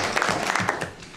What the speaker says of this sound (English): Clapping for that? You should.